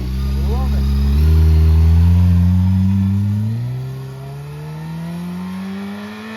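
Honda CBR600RR sport bike engine with rising, falling harmonic tones as the rider works the clutch and shifts gears, fairly close, with people talking over it.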